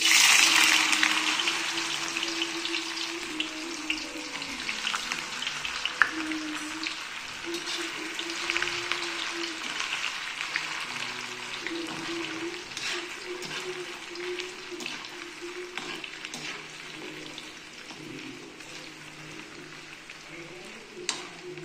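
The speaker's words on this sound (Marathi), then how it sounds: "आता हे पनीर तळून घेते" Paneer cubes frying in oil in a pan, a soft continuous sizzle and bubbling that runs steadily throughout at moderate level, with faint kitchen sounds alongside.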